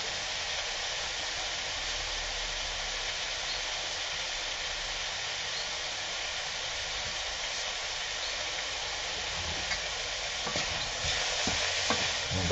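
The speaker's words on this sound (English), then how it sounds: "that is a very quick stir fry, or saute as I call it" Cauliflower and kidney beans stir-frying in a hot pan, a steady broad sizzle holding evenly throughout with a few sharper clinks and stirring scrapes near the end.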